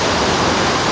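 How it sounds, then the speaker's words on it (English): Roaring water of Savica Waterfall in Slovenia, a steady, dense broadband rush that fills the whole second, loud and unbroken. "you can probably hear the noise the water is making"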